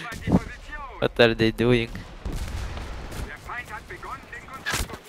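Sharp gunfire bursts from an anti-tank PaK gun and other weapons in the World War II video game Enlisted during a Berlin assault, mixed with excited talk from players throughout.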